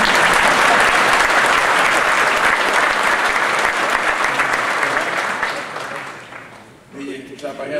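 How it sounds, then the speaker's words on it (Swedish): An audience at a graduation ceremony claps loudly and continuously, a dense wash of applause that fades out near the end as a voice begins to speak. "Ni klappar händerna för en yngling, förstår jag."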